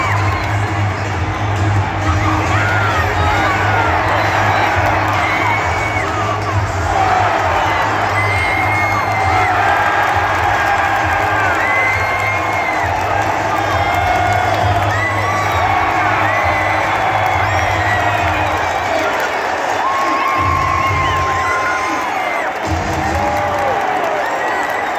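A hockey arena crowd at an NHL game roars and cheers during a fight, a loud, sustained mass of shouts and whoops that swells and briefly dips near the end.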